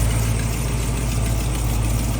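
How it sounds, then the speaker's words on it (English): A stock small-block Ford V8 in a restored 1967 Ford Mustang idles steadily, a close, continuous low rumble with an even, unbroken throb and no voices. "small block Ford V8. Runs great, pretty stock, nothing crazy done to it."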